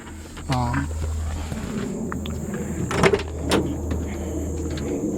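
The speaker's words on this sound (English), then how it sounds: "Window up and down." Electric power window on a 1973 Chevrolet Camaro running up and down; a steady low motor hum continues under a constant high whine, with a couple of brief knocks partway through and no voices.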